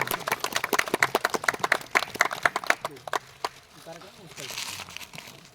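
Brisk scattered clapping from a small audience as a volunteer receives a small gift at the close of an event, sharp close claps for about three seconds that thin out into quieter rustling.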